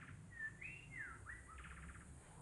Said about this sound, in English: That sound right there, that's a black-bellied wren.